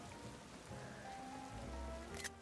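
Rain falls in the Pokemon Legends Z-A video game as a faint, steady patter under soft game music, with a brief brighter splash near the end.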